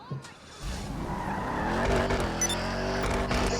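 Video game car pulling away and skidding, with a loud engine and tire squeal building after a short quiet start, plus a brief bit of talk near the beginning.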